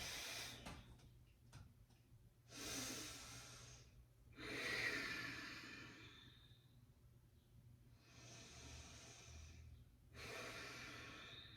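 Slow, deep breaths drawn in and pushed out while holding a yoga warrior two pose, four long swells of air spaced a few seconds apart, soft and close with a faint hum underneath.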